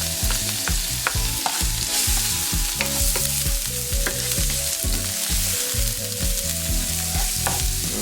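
Chopped onion and garlic fry in a pan over a medium flame, sizzling steadily and loudly throughout, with stirring scrapes, for a curry coconut lobster dish.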